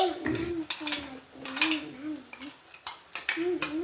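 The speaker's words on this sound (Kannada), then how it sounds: "ಇವಾಗ ಮಸಾಲ ಹಾಕ್ಕೊತಾ ಇದ್ದೀನಿ." A metal spoon clinks and scrapes against a cooking pan as masala spices go in over roasted onions, mustard seeds and oil for an egg curry, with a quiet voice underneath.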